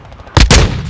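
Close, loud gunshot bursts from Call of Duty Modern Warfare 2 combat, with two sharp blasts and a trailing crackle of fire rising over a quiet lead-in.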